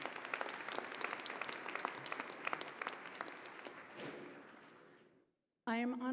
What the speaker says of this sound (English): One more round of applause for Ms. Johnson.